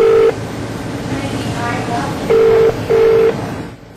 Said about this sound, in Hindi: अभी तक केवल घंटी जा रही है